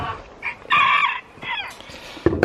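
Chickens clucking close by, then a rooster's crow rings out loudly, followed by more short clucks and calls.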